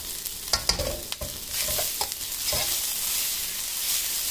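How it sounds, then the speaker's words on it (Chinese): Rice with green and red peppers is stir-fried in a wok over low heat, with scraping spatula clinks and tossing over a close, steady sizzle that settles into continuous frying noise. "受热，米饭受热翻一下。"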